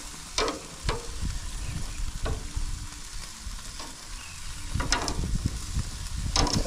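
Meat sizzles on a grill at an Easter cookout, a soft continuous frying crackle broken by scattered clicks and scrapes of handling, fairly quiet and close with no talking.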